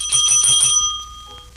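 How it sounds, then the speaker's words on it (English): A bright bicycle bell rings in a quick trill of several strokes, then fades out with a lingering metallic tone. "Oh, gosh darn it, the bell."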